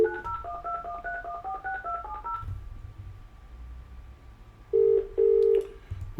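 Telephone keypad tones chirp in a quick rhythmic sequence as a number is dialed through a phone system, followed by a quiet pause and then two longer loud tones near the end.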